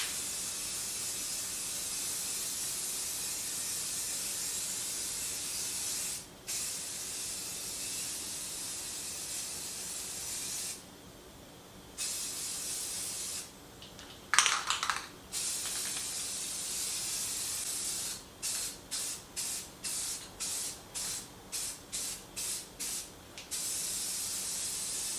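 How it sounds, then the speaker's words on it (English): Spray paint hisses from an aerosol can while a kids' bicycle chopper frame is coated black: long continuous bursts at first, then a quick run of short rhythmic sprays near the end, close and fairly quiet with no talking. "I'm going to spray paint this black"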